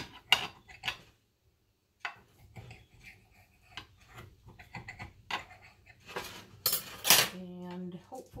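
A knife cuts hard-boiled eggs down the middle and into six pieces, giving a run of short tapping and scraping knocks against a board and dish, with a brief louder clatter near the end.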